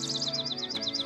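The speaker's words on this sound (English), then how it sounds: "we have to deal with Mother Nature, which is birds chirping." Several small birds chirp outdoors in a steady run of short, repeated high tweets, fairly close and clear above a low background hum, with no talking.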